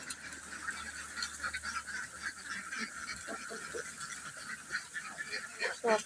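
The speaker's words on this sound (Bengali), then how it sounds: "কিছু হাঁস পানিতে, কিছু হাঁস খাচ্ছে।" A flock of domestic ducks feeding near water gives repeated honking and quacking calls at mid distance over a noisy outdoor background, with irregular bursts of calling.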